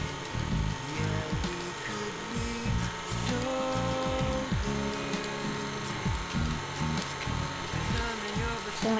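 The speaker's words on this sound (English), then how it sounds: "So you want to mix those up until it's well incorporated." An electric stand or hand mixer beats eggs into chocolate chip cookie dough, giving a steady, fairly loud motor whir with shifting tones and uneven churning texture throughout, no speech.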